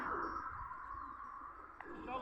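Racing pigeons cooing at a pigeon race release in Basra, soft low coos coming and going over a busy outdoor background while people talk nearby.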